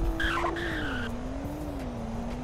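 A Porsche Cayenne GTS with a V8 engine launches hard off the line with traction control off, tires squealing loudly at first and a steady engine drone rising and holding as the car pulls away.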